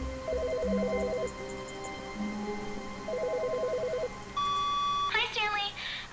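A telephone rings in The Stanley Parable, two repeated warbling electronic ring bursts with beeps, heard near and clear, ending in a short rising tonal chirp.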